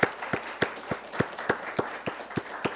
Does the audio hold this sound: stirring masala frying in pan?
no